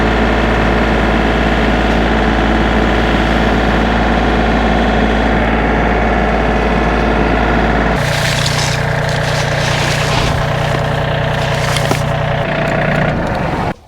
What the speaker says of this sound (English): it's almost too heavy for the little tractor to lift